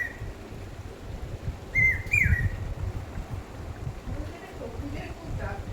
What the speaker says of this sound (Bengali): এই যে দেখুন কি সুন্দর কোকিল ডাকছে জানলা দিয়ে